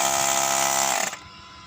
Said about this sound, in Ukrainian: ось працював у нас компресор